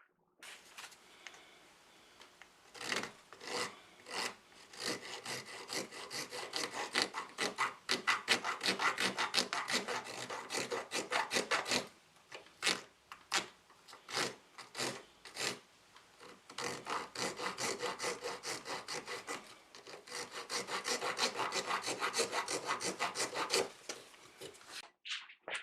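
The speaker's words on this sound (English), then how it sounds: "it's going to just be some rasps and some shaping to do next" Small needle rasps file and shape the wood of a 35-year-old mandolin, making close, steady scraping strokes in quick runs, with pauses between the passes.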